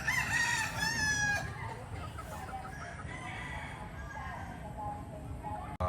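Chickens and roosters crow loudly and repeatedly at close range, with clucking fowl mixed into a busy farmyard background.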